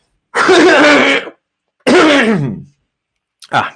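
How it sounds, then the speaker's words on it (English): Two harsh, drawn-out coughs about half a second apart, followed by a shorter clearing sound, close and loud with silence between. "I didn't mean to cough into the microphone"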